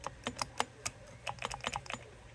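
The switch on a Turner Plus Three microphone for a Cobra 29 CB radio clicks repeatedly, a quick series of sharp, close plastic clicks in irregular bursts, alone and fairly quiet.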